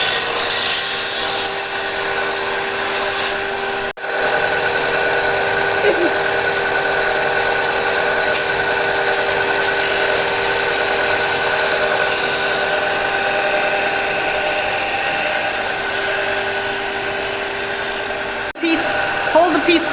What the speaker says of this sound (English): So kiddos are learning to use belt sander.